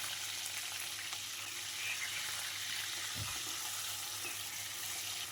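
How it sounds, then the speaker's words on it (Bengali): Prawns with salt and turmeric fry in a hot wok, a steady faint sizzle running throughout with a brief low knock midway. "আমি এখানে চিংড়ি মাছটাকে সামান্য কিছুটা নুন আর হলুদ দিয়ে ভেজে তুলে নেব।"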